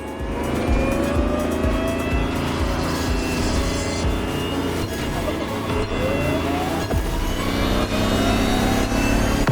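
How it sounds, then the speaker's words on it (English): A Lamborghini Terzo Millennio in the racing game The Crew Motorfest roars loudly and continuously, its engine revving and pitching up and down throughout the clip. "the Lamborghini Terzo Millennio like you've never seen it before"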